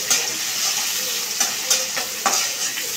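Onion, chili and garlic fry together in a pan with a steady close sizzle, broken by several sharp scraping clicks as a utensil stirs them.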